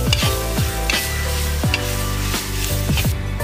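Onions, crushed shallots and green chillies frying in a pan are stirred, with a loud steady sizzle under rhythmic scraping strokes of a spoon against the pan, about one every half second.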